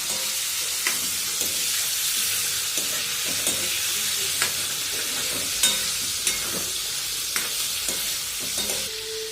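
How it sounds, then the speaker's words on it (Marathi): Prawns fry in hot oil in a pan with a constant close sizzle, while a utensil stirs them and scrapes the pan in irregular clicks and knocks. No one speaks. "तेलामध्ये फ्राय करणार आहोत आपण कोळंबी."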